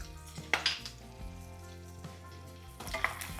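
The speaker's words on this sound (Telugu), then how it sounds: "ఇవి మంచిగా నెయ్యిలో వేగనివ్వాలి, చాలా బాగుంటుంది టేస్ట్" Potato pieces frying in ghee in a pan for garlic rice, a low, steady sizzle close by with a few brief scraping stirs, with no talk over it.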